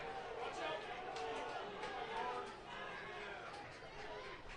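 Steady murmur of a large crowd chattering at a night high school varsity baseball game, a dense wash of overlapping voices with no single speaker standing out, moderately distant.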